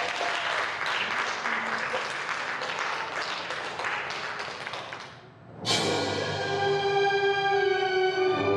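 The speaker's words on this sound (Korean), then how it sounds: "박수 한번 주시겠습니다" Concert audience applauding for about five seconds after an Italian art song, the dense clapping dipping briefly before a sustained tone from a singer or instrument takes over.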